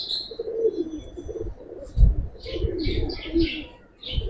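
Giribaz pigeons coo in a loft, including a red Chila hen, their low murmurs close and steady with bright chirps breaking in over the second half.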